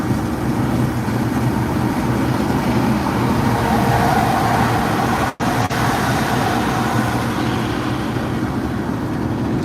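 Steady, loud road traffic roars on streets after a record snowstorm. It is a dense, continuous wash of noise, broken once by a brief dropout near the middle.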